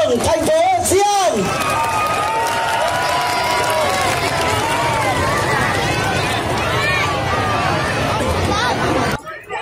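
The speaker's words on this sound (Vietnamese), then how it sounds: "Ta hãy dành một tràng pháo tay nữa thật lớn thân thiện đến với đoàn nghệ thuật Lê Sư Dùng Tân Hiệp Đường thành phố Di An" Crowd applause and cheering for a lion dance troupe at a lion-dragon dance competition in Dĩ An, Bình Dương, with someone speaking over it through a loud PA. The clapping and crowd noise run continuously under the voice.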